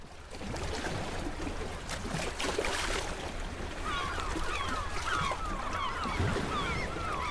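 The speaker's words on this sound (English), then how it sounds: "And then here is the waves track." Lake waves lapping in a field recording, a continuous washing noise with a few bird calls appearing in the second half.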